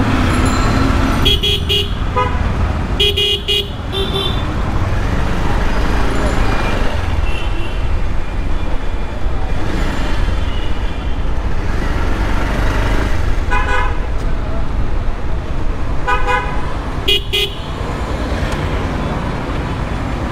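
Steady roar of road traffic as vehicles pass close by, with several short horn toots and a voice speaking now and then.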